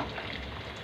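Garlic hits hot oil in a pan, a brief, steady, soft sizzle and crackle heard close up without any talk.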